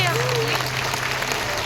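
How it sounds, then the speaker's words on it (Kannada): Loud applause from an audience for kunitha bhajane dance teams at a college jubilee celebration, steady dense clapping throughout with a voice and tonal sound over it. "ಒಂದು ಬಾರಿ ಜೋರಾದ ಕೈ ಚಪ್ಪಾಳೆ ಈ ಭಜನಾ ತಂಡಗಳಿಗೆ"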